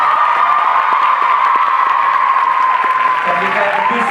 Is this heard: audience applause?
yes